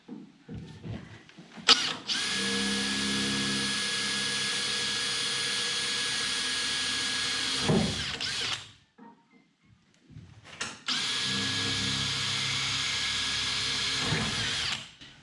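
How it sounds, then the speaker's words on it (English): Two long bursts from a power drill making screw holes for a fishing boat's control panel, each spinning up to a steady high whine for several seconds before stopping, with a short quiet gap between them. "So first things first, drill these screw holes."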